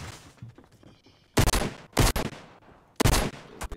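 Gunfire in a video game comes as three sharp, loud bursts of several rapid shots each, separated by short quiet gaps over low background noise.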